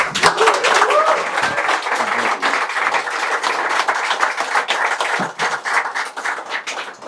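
Applause from the audience at a meetup in Dublin, dense clapping carrying on steadily throughout, close and fairly loud with voices mixed into the crowd noise.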